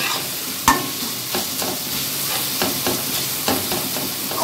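Ingredients for sundal are sautéed in a kadai, giving a loud continuous sizzle broken by sharp scrapes and knocks of stirring.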